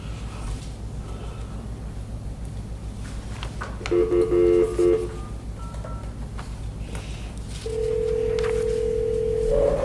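A phone call placed from a board meeting: a brief burst of touch-tone dialing beeps, then a steady ringback tone, heard clearly over a low room hum.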